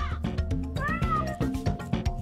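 Kittens meowing close by, a continuous run of overlapping high, rising and falling mews with no talking.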